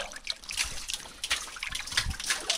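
Water pours and splashes from a full bucket outdoors at a bee sanctuary, an uneven trickling and splattering stream lasting throughout, close and moderately loud.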